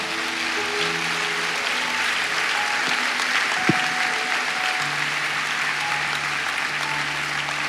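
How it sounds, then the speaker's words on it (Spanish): A church congregation applauds loudly during a Spanish-language Sunday service, a dense, steady wash of clapping that runs throughout, with sustained instrumental tones from the worship music beneath it. "denle un fuerte aplauso al Señor"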